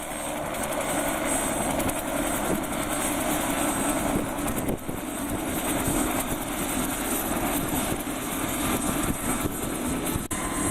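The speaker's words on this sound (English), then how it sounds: "Helicopter with another group of people has just come back." A helicopter's rotor and engine roar steadily and loudly close by in Churchill, Canada, a continuous thudding drone with no voices.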